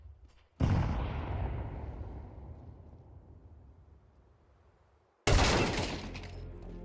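Two grenade explosions in Counter-Strike 2: a sharp, loud blast that decays slowly over several seconds, then a second equally abrupt detonation near the end, with nothing else audible.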